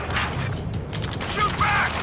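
Gunfire in Ace Combat 7 from troops pinned down by enemy fire, rapid bursts of shots crackling over a low rumble with a faint metallic ring, moderately loud and close, with voices talking in the background.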